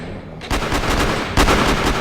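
Rapid gunfire in the Roblox video game, loud dense bursts of automatic shots in two quick volleys, near and harsh, filling the whole short moment.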